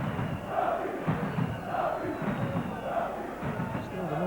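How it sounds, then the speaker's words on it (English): Home football fans roar in a stadium during a Rapid Bucharest versus Liverpool UEFA Cup match, with a crowd of around 12,000 giving a loud, sustained rumble of chanting and shouting that swells in waves. "Still the noise from the home fans in a crowd"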